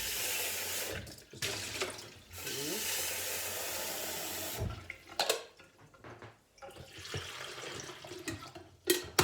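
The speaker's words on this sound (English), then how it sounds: "Put it in, open this one, and pour some water." Water pours and runs in short bursts in a home kitchen while coffee is being made, the hissing flow starting and stopping with clinks and small handling sounds between pours.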